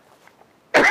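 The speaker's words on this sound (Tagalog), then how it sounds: "Ubo ka naman ng ubo." A person gives one sharp, close cough that bursts out abruptly at the end after near silence, during a Filipino comedy talk show.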